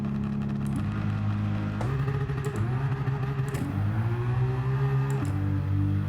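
An engine-swapped Liberty Walk car accelerates hard in Gran Turismo 7, its engine note climbing steadily and then dropping sharply at each of several upshifts, loud and close throughout.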